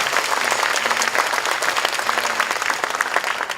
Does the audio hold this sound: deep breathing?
no